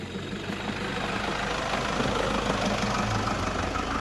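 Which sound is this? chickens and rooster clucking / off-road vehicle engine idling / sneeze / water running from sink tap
off-road vehicle engine idling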